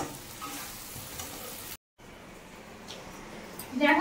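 Cashew paste masala is stirred and fried in a pan, giving a faint steady sizzle with soft scraping, briefly cut out and then returning louder near the end.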